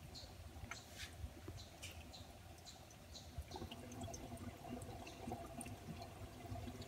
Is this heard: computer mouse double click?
no